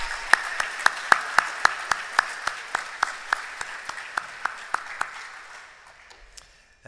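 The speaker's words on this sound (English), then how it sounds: "please put your hands together for those students" Sparse, slow clapping from a small audience at an Easter liturgy, about twenty distinct claps in a steady rhythm, fairly close and moderately loud, thinning and fading out toward the end.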